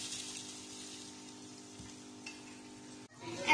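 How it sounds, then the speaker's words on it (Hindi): Chicken croquettes coated in breadcrumbs fry in hot oil while iftar food is being made, giving a steady close sizzle that runs throughout and breaks off briefly near the end. "चीज़ें फ्राई हो रही है"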